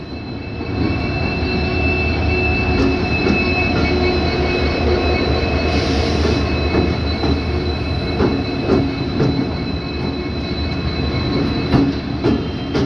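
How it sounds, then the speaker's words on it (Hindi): The Kathgodam Lucknow Express arrives behind twin WDP4D diesel locomotives, numbers 40309 and 40351, with a loud, close, continuous rumble of wagons, rattling wheels and occasional squeal throughout, and no talk. "हमारी ट्रेन आ गई है।"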